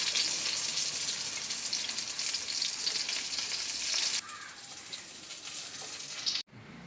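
Fish fries in hot oil in a pan for a Kerala-style pepper fish dish, a dense, even sizzle that drops in level partway through and continues more quietly, with a brief break just before the end.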